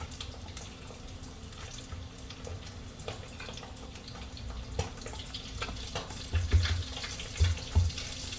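Pieces of arbi (taro) frying in hot oil for Sindhi arbi aloo tuk, giving a steady, moderately loud sizzling crackle with a few heavier bubbling pops near the end and no talk.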